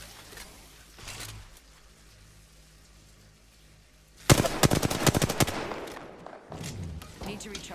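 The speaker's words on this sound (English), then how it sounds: "Getting shot at." Automatic gunfire in the video game Apex Legends crackles in dense rapid bursts, loud and close, after quieter scattered shots, with game sounds behind.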